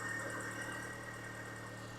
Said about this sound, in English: can you hear that high-pitched whine? I think that is just a supercharger